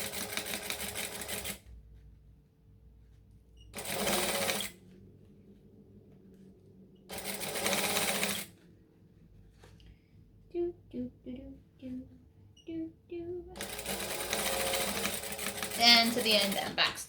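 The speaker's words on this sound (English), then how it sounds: "Chain stitching, gotta love it." A sewing machine chain-stitches quilt binding for a Raggabrash pattern in several loud bursts of steady whirring separated by pauses, with a few softer clicks and handling sounds in between.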